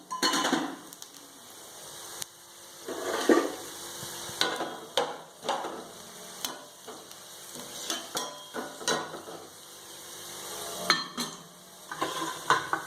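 Cumin is tempered in hot oil for an egg kuzhambu, giving soft sizzling under irregular bursts of stirring and clattering against the pan, fairly quiet and close.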